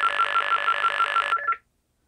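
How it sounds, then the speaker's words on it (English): A vintage telephone exchange for room-to-room calling gives a dial tone. It is a steady, fairly loud electronic tone with a faint pulsing texture that runs for over a second and then cuts off abruptly into silence. "you might be able to hear the dial tone a little better"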